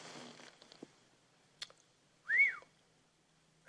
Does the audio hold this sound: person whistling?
yes